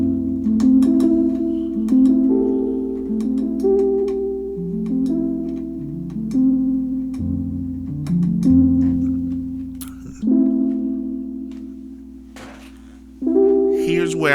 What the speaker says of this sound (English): Cassette Rhodes VST right here.